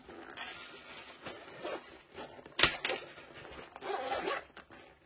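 A zipper runs open on a fabric storage case for colored pencils, a close rasping pull with a sharp snag midway, followed by softer handling rustles of the case.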